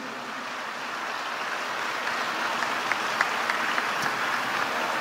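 A large audience applauding loudly after a call for thanks, a dense steady wash of clapping that carries on throughout with no voices over it.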